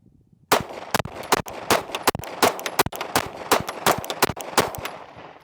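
A Radian rifle firing 124 grain Norma ammunition cracks out a rapid string of about a dozen sharp, close gunshots with short uneven gaps, starting after a brief quiet moment.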